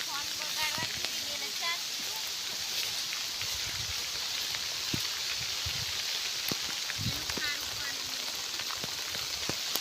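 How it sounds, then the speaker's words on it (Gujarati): Rain falling on an open crop field of groundnut and cotton, a steady, even hiss of drops with occasional louder patters and faint voices in the background. "વરસાદ આવી ગયો"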